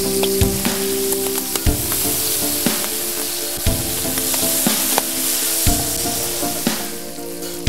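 Squid and red pepper fry in a pan for a seafood paella, a steady bright sizzle with periodic scraping stir strokes, close and continuous with no talking.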